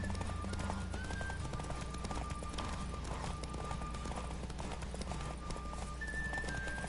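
Horse hooves clip-clop at a steady gallop in The Witcher 3, a continuous rhythmic pounding under game music and ambience, with a faint whinny now and then and no talking.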